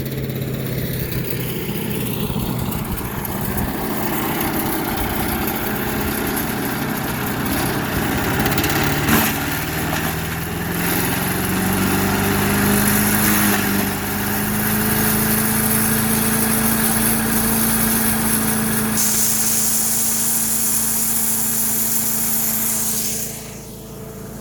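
A Craftsman 4 HP wood chipper/shredder with a China carburetor running, its small engine droning steadily and loud at close range, rising in pitch partway through, then cutting off near the end; no voices.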